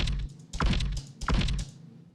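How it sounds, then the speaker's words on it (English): A mechanical metallic latch-release sound effect with a camera-like click, layered as repeated sharp clunking releases with a low thud, heard close and loud, alone. "this latch release down here, which is that like mechanical metallic sound that I wanted to add"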